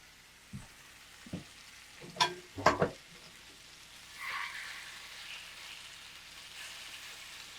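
Cumin-spiced pork pinchos sizzle and caramelise in a hot pan, a soft steady frying hiss with a few brief louder crackles and stirring clatters early on, heard alone without talk.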